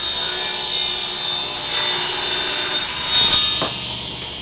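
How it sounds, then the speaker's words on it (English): A table saw rips through 3/4-inch MDF for a subwoofer enclosure, giving a loud, steady whining cut that swells near the end and then drops away as the blade clears the board. No one speaks. "fire up the saw and we're gonna cut some wood"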